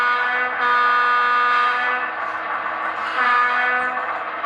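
A model train runs on a layout, giving a loud, sustained, horn-like tone that holds for several seconds with slight swells, heard alone.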